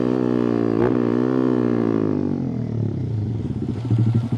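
A Honda Monkey 125 fitted with a Takegawa 145 kit revs hard on a dyno, holding a high, loud engine note that drops away into a lumpy, pulsing idle.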